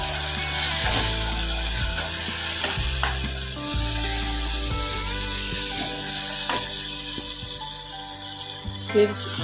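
Green chillies sizzle and fry steadily in a pan while being sautéed for a spicy Maharashtrian udid dal, with occasional stirring scrapes and small clinks throughout; no one speaks.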